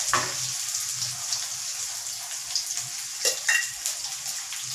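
Onions frying in oil in a pan for a home-cooked rasam, a steady close sizzle with a few sharper scrapes and bursts as the pan is stirred, no voices.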